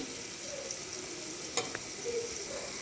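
Water poured into vegetables frying in a pan, a brief splash and hiss rising over a steady low sizzle and stirring, with no voices.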